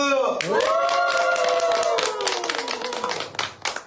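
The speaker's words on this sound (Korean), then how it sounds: "다시 한번 박수!" About 700 people at a literary concert in a Hamyang church clap again on cue. A loud voice calls out before a quick run of sharp, near claps rises and then thins out.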